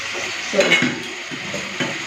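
Fish curry being gently stirred in a pan on the stove: soft scraping and sloshing strokes with a light sizzle underneath, a few short bursts close by.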